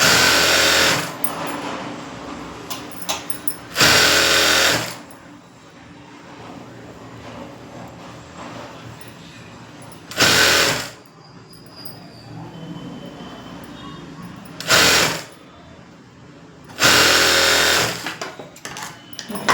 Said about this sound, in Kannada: ಲಾಂಗ್ ಸ್ಟಿಚ್ಚಲ್ಲಿ ಒಂದು ಸ್ಟಿಚಿಂಗ್ ಹಾಕೋಬಿಡಿ.